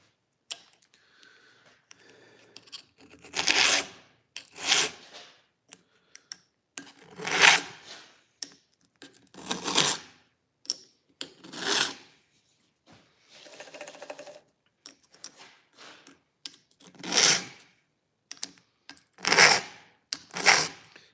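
Chainsaw chain being sharpened with a file, a series of close, scraping rasp strokes in irregular bursts with quiet gaps between them, no voices present.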